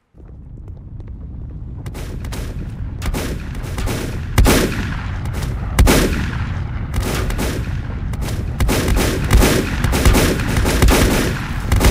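Rapid gunfire from the video game Volcanoids, a dense run of loud cracking shots and booming blasts layered over a steady roar for the whole stretch, with no talk.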